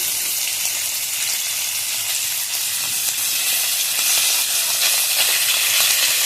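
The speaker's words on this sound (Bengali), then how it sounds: "আর বাদ বাকি মাছ যেগুলো আছে অল্প অল্প করে ভেজে নেবো" Live river fish (gule) fry in a small amount of oil in a pan, producing a loud, even, close sizzle that holds steady throughout with no talking.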